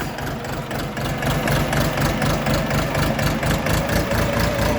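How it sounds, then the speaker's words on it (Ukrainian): A three-cylinder diesel engine of an Orion RF-244 mini tractor idling close by, a steady low chugging throb with a rapid, even knock, loud and continuous throughout. "Трьохциліндровий дизельний двигун"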